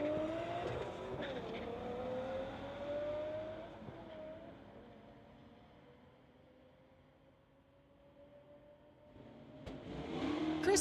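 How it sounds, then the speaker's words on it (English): Drag racing at a street-legal event: a 1985 Chevrolet and a 1998 Nissan launch and roar away down the strip, engines fading into the distance before another loud rise near the end. "1985 Chev Christopher Smith in the TCS lane going against Chad McGowan in the 98 Nissan."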